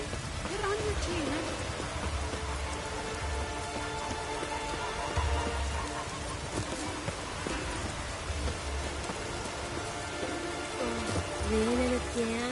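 Rain pours in Skellige in The Witcher 3, an even, dense hiss running throughout, layered with soft in-game music tones and low rumbling beneath.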